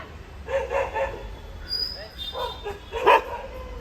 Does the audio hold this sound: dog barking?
yes